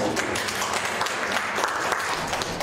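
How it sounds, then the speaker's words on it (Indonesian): A gathered audience bursts into steady, dense applause, with many hands clapping at once and fairly loud, continuing without pause and with no talking over it. "Tepuk tangan."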